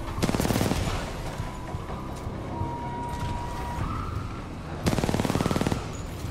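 Automatic gunfire in Titanfall 2, with rapid bursts near the start and again near the end over a steady bed of game noise.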